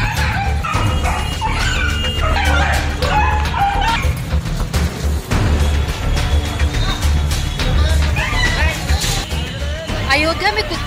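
Stray dogs in the streets of Ayodhya bark and whimper in short yips and whines, heard through a steady crowd hubbub and talking.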